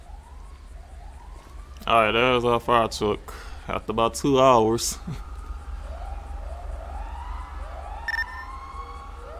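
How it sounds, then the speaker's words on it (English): A fire truck siren in the LSPDFR police game wails in rising and falling sweeps at moderate distance, with a voice talking over the middle stretch. "Alright, there's our fire truck."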